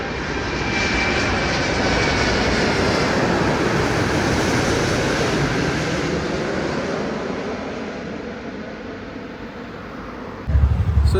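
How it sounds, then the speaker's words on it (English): A Singapore Airlines Airbus A380-800 takes off at Delhi Airport with a loud, sustained jet engine roar that swells and slowly fades, ending in a sudden low rumble. "here comes the A380-800 of Singapore Airlines straight from Singapore"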